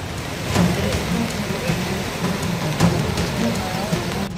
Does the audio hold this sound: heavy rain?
yes